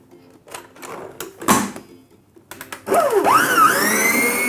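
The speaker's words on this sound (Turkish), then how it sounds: "Ve çırpıyorum." Cold cream with sugar and vanilla is whisked, opening with a few clattering knocks and clicks before a loud, close electric mixer whirs up with a rising, wavering whine.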